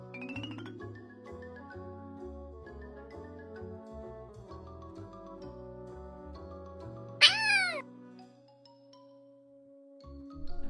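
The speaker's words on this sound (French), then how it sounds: "Ce chaton est venu chez nous hier." A small kitten gives one brief, rising meow over a steady tonal musical background, heard once near the middle and fairly clear, with no talk.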